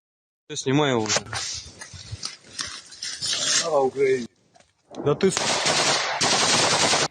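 Automatic rifle fire in a news report from the war in Ukraine, where a man in a Ukrainian military uniform is shot; rapid bursts sound amid loud, chaotic noise, with voices talking over much of it.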